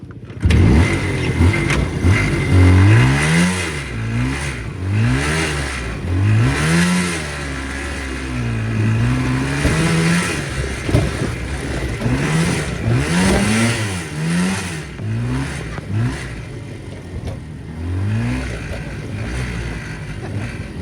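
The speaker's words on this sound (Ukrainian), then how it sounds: "У мене резина ота рідна стоїть на мотоциклі. Вона буксує." A motorcycle engine revs repeatedly on a rough road, rising and falling in pitch as the stock tire spins and struggles for grip, loud and close throughout.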